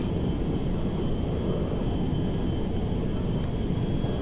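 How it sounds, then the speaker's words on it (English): An A321neo airliner taking off in GTA 5, a steady loud roar of jet engines with a broad rumbling wash and a faint high whine, continuous and unbroken with no speech. "Got enough speed to go ahead and take off."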